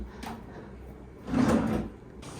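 Two drawers slide and knock in a hotel room at Sandals Halcyon Beach, St. Lucia: a brief soft one at the start, then a louder, longer rolling slide and thud, heard close with no talking.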